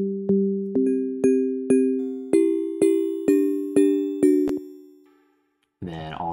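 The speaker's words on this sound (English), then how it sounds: "it's a sine wave." Pure sine-wave synth in Ableton plays a short melodic line of about ten clean, bell-like notes, each decaying smoothly before fading out; a brief voice follows at the end.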